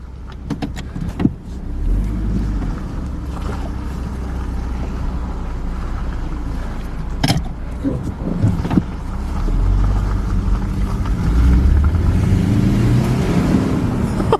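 A Saab 9-5 two-litre engine hums steadily from inside the car, a low continuous drone with some wind noise and occasional clicks and knocks.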